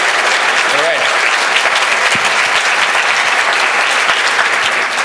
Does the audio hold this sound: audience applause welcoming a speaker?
yes